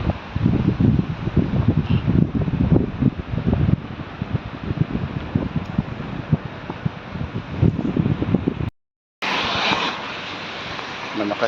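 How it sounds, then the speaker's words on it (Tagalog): Strong wind with light rain in the UAE buffets the microphone as a continuous roaring whoosh, loud and gusty, with a brief dropout near the end while a person talks over it. "Malakas yung hangin"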